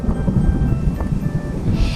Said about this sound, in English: I'm really scared of the sound of the thunder.